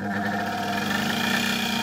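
A Silma RH-5500A electric motor with new bearings runs steadily, sparking at higher voltage, giving a constant close humming whine with a faint crackling hiss over it.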